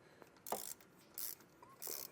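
A 7/16 socket wrench tightens a nylon lock nut while installing Air Lift LoadLifter 7500 XL rear air springs, giving three short, faint ratcheting clicks separated by brief pauses.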